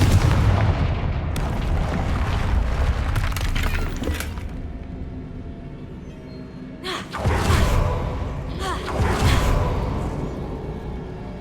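Confringo fire spells blast in a Hogwarts video game: loud, booming explosions roll through dense rumbling battle noise, with sharp bursts standing out near the middle and again toward the end.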